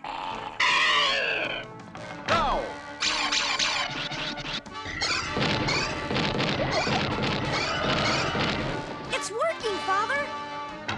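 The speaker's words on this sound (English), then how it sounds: "Help me destroy the shield!" A cartoon invisible shield is smashed in a long run of crashing, whacking and scratching effects, with booms, animal-like growls and whistling sweeps, loud throughout with voices mixed in.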